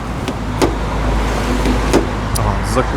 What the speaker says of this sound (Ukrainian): Закрились, бо не відкрив машину